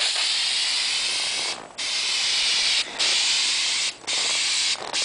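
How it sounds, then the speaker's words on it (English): A spray paint can hisses in steady bursts onto a scale model, four sprays separated by brief pauses, close and fairly loud with no talking. "So I'm going to go ahead and start spraying this."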